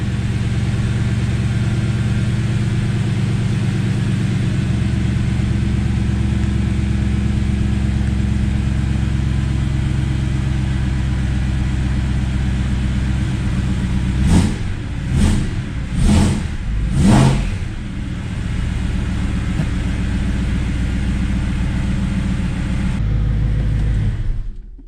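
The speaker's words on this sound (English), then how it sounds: "Before we let the engine warm up so we can rev it out a little bit" A BMW M3 engine holds a loud, steady idle, then gives four quick blips of the throttle in a row before settling back to idle, ending with a short rise and an abrupt stop.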